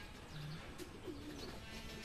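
Racing pigeons arriving from a 105 km training flight in Lupao, Nueva Ecija give soft, faint coos and a few chirps against quiet outdoor background noise.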